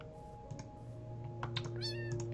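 Minecraft cats give a few short, faint meows over steady game background hum, with a brief rising tonal call near the end and light clicking alongside.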